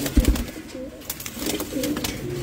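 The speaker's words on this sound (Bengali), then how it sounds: "এই দেখেন অ্যান্ডালুসিয়ান, মাশাআল্লাহ, এটা আমার ঘরের বাচ্চা, ওই যে রিং করানো আছে পিছনে কবুতর।" An Andalusian-coloured pigeon coos close by in a loft, with soft repeated throaty calls over a busy backdrop of clicks and rustling.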